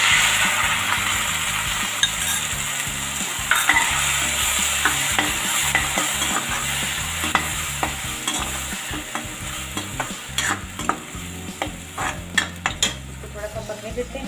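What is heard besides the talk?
onion and tomato puree frying in pan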